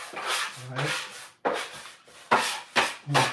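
Sourdough dough dragged and pulled back across a wooden board during pre-shaping, giving a series of soft, close rubbing and sliding strokes, about five or six passes in an uneven rhythm with no talking.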